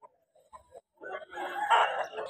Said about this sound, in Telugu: ఇది బాగుంది కోడి పిల్ల